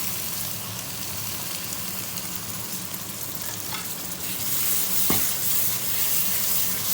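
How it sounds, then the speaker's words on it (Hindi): Masala spices sizzle and crackle as they are stirred and fried in a pan over the flame, a steady dense hiss with occasional scraping strokes of the spoon, close and continuous with no talking. "मसाले को अच्छी तरह से भूनेंगे।"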